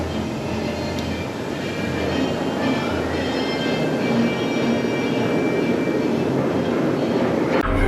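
Baron 1898, a roller coaster train at Efteling, rides the track with a loud, steady roaring rumble and rattle of the cars. The sound is continuous and close throughout, with no voices.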